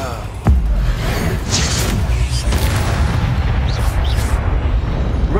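A Confringo explosion spell goes off in Hogwarts Legacy with a sudden loud boom, then a sustained rumbling burst of fiery noise that trails on under faint background game sounds.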